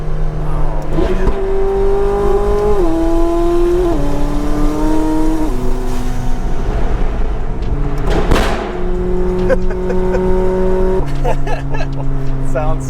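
A supercar engine revs hard while the car spins, rising and stepping through loud, shifting tones with a squeal-like burst midway, all close and under continuous road noise.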